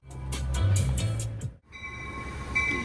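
An Amtrak train in California rumbles close by with heavy low-frequency roar, a brief drop midway, then steady horn-like tones and rail hiss continuing as it passes.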